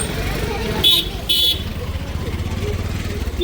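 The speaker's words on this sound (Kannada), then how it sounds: "ಗಾಡಿ వస్తుంది." Traffic rumbles through a busy street lined with shops during a festival outing, with two short, loud horn toots in quick succession near the start, then a steady engine drone beneath the hubbub.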